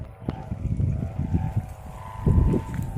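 Wind gusting outdoors during a kite session in Indonesia, a steady rushing buffet on the microphone with low rumbling surges, strongest near the end, heard alone.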